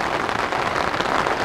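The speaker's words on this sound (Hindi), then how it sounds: "बारिश तो रुकेगी नहीं" Heavy, nonstop rain drums on a camping tent in cold weather, a dense, loud, even patter with no pauses and no voices.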